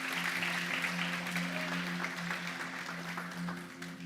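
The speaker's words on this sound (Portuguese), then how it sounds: "Você pode dar uma salva de palmas ao Senhor?" Church congregation applauding during a Portuguese-language evening service, soft continuous clapping set against a sustained low organ or keyboard tone, fairly quiet and even throughout.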